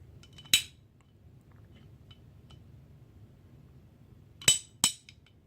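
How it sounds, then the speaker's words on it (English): An AR-15 trigger releasing the hammer, heard as a single sharp metallic click followed later by a close pair of crisp snaps in a quiet room. "Releases the hammer."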